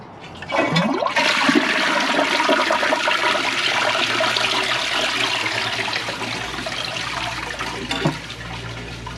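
A clogged Eljer Patriot toilet from 2004 is flushed, with a loud rushing swirl of water close by that roars steadily for several seconds and then gurgles and trickles as the bowl struggles to drain.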